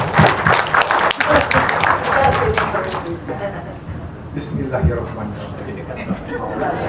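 Applause and crowd noise for a host at a 55-year reunion gathering of Unpad medical faculty alumni, class of 1971, loud at the start then thinning out, with voices and chatter mixed throughout.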